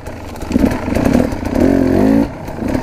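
A close KTM 300 enduro motorcycle engine, started cold, puttering and revving in short bursts, rising to a sustained higher rev before dropping back.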